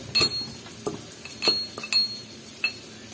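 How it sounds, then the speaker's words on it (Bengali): Cardamom and cloves being lightly crushed produce a handful of sharp, bright clinks and taps, about six separate strikes spaced irregularly, with quiet gaps between them. "এলাচ আর লবঙ্গ এটা আমি থেত করে দিব হালকা একটু থেতলো করে দিচ্ছি"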